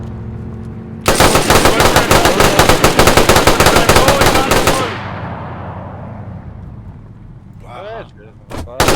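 Rapid automatic gunfire rattles loudly for about four seconds during a car chase in the video game DayZ, then fades into vehicle noise and a few later shots.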